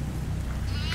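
A goat bleats briefly on the Farmhouse map of the horror game Devour, a short wavering cry heard amid game ambience.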